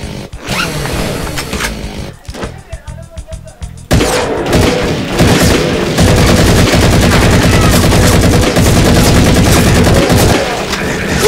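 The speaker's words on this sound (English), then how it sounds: "The shooting begins." Gunfire from the Meatball Machine video game: after a quieter stretch of sparse clicks, loud rapid bursts of shots erupt and keep going in a dense, rattling barrage to the end.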